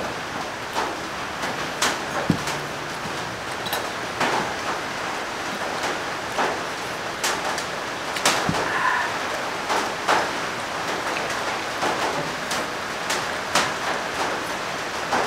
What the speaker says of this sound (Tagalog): Ang lalaki ng ulan.